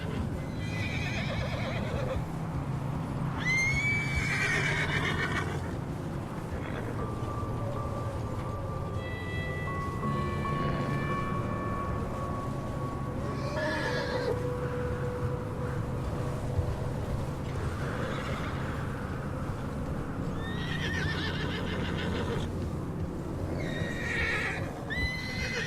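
Horses in the Red Dead Redemption 2 video game give several loud, agitated whinnies and neighs, spread across a steady bed of clip-clopping hooves and ambient outdoor noise.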